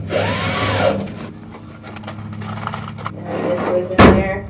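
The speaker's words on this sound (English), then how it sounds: "I hate that drill. It's so loud." A loud power drill whirs steadily for a few seconds, ending in a sharp burst, with faint background voices.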